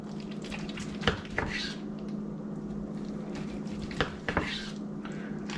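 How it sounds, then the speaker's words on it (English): A knife slices through smoked turkey cooked in a Pit Boss pellet smoker, with a few sharp clicks and scrapes against the board over a steady low background hum. "Let's get us some slices."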